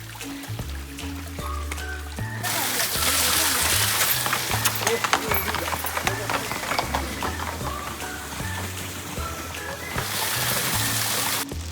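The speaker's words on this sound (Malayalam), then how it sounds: "ആ വെള്ളത്തിൻ്റെ സൗണ്ട്" A mountain stream flows and trickles beside a hiking trail near Zakopane, a steady rushing wash of water heard close by while people talk over it.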